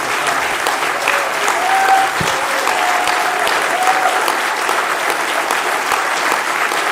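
A live comedy podcast audience in Nashville applauds, a steady, loud wash of many hands clapping for several seconds with faint voices mixed in.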